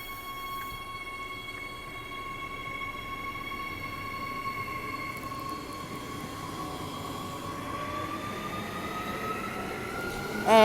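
A Perth suburban electric train set at Wellard station gives off a steady low rumble with sustained tonal whines that bend and rise toward the end, moderately close.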